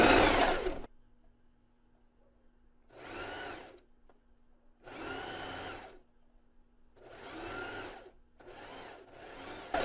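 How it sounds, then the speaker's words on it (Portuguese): Domestic zigzag sewing machine stitching stretchy panty fabric, running in several close, loud bursts of rapid whirring with quiet pauses between, including reverse stitching, no talking. "costurar essa calcinha caleçon na máquina reta zigue-zague para ela poder esticar"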